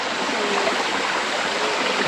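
Water rushes steadily beneath a small handmade bridge in a park, a loud, continuous broadband babble of a flowing stream with no voices.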